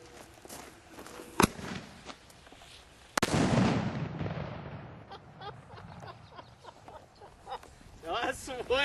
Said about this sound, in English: We have our artillery shell in it now, and we're fixing to light the end of it